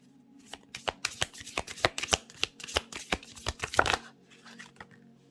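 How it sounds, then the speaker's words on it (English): A deck of cards riffled and shuffled by hand, a rapid run of crisp close snaps for about four seconds before stopping, over faint room hum. "Let's get one more shuffle."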